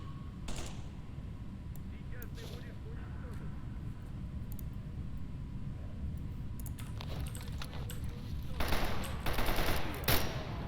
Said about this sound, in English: Oh, the sounds of nearby combat.